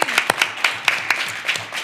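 Sparse applause from a community college board meeting audience, a handful of distinct sharp claps spaced about a quarter second apart, fairly close and clear.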